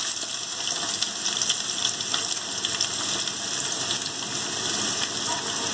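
Chopped onions sizzle and fry steadily in a hot pan, a continuous bright crackling hiss that holds at the same level throughout with no talking.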